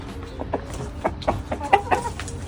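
A rooster clucks while being fed treats on a farm along the Canal du Midi: a series of short, soft clucks and grunts close by, spaced irregularly over steady background ambience, with no talking.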